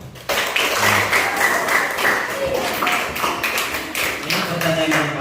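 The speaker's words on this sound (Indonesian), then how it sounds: "kamu tepuk tangan dulu" Students at a school orientation seminar clap for a presenter, an uneven round of many hands with distinct sharp claps standing out, mixed with faint voices in the room.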